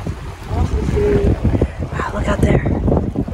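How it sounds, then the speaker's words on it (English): Wind blows steadily across the breezy side of a hill above the Rio Grande in Big Bend National Park. It buffets the microphone as a low, continuous rumble while people talk over it. "We're on the breezy side of the hill."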